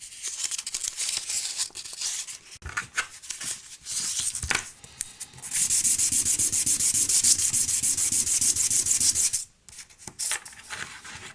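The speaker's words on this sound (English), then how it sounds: "This is just some 1000 grit sandpaper. It was closest to me, that's why I'm using it." Hand sanding with 1000 grit sandpaper during a sewing machine lamp build makes close, raspy rubbing strokes, first short and broken, then a long steady run of quick back-and-forth scrubbing that stops abruptly.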